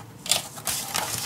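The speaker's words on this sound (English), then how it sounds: "So I am gonna cut my bookbinder's linen" Bookbinder's linen being cut up close in a few short, crisp, rasping bursts, each lasting a fraction of a second, with no talking.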